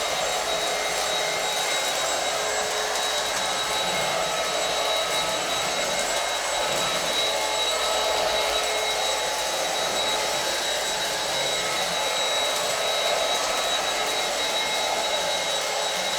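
Bissell Featherweight cordless stick vacuum running in suction mode on a bare wood floor, a steady continuous whine and rushing airflow, close and unbroken, with no talk.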